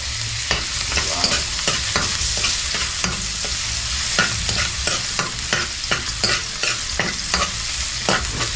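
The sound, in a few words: garlic sautéing in a pan for caldereta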